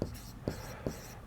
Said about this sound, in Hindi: तो यहाँ पे लिख देते हैं